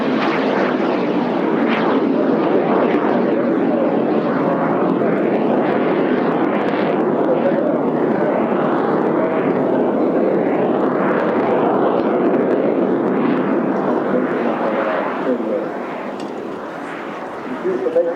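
A propeller aerobatic aircraft flies at the Eastbourne Airshow, its engine a loud continuous droning roar that surges and wavers as it manoeuvres overhead, fading slightly toward the end.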